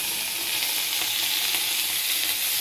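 Garlic paste hits hot mustard oil in a pan for a Bengali pomfret curry, giving a loud, even, continuous sizzle close by with faint stirring and no voices.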